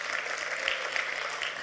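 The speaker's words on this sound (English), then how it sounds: "Another round of applause to everyone who presented." Applause from the audience at a youth climate summit in Greater Bendigo, honoring the youth presenters; a steady, dense clapping sound sustained evenly throughout without a break.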